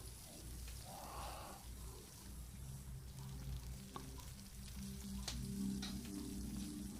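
Meat cooks over a campfire in the survival game Stranded Deep, giving a soft continuous sizzle and crackle with faint low tones underneath, quiet and steady.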